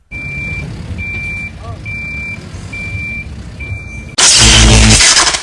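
A truck's reversing alarm beeps five times at an even pace over a low engine rumble, then a sudden loud hiss and roar takes over.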